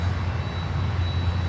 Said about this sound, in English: I hear a prop plane above me.